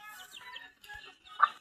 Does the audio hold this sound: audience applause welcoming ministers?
no